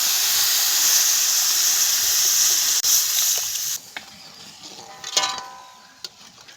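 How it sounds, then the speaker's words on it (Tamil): A pot of rock fish and pumpkin kuzhampu with tamarind, chili powder and salt boils hard, giving a loud, steady steamy hiss that drops away partway through, leaving softer bubbling with a few sharp pops and clicks. "குழம்பு நல்லா குதிச்சிட்டு இருக்கு"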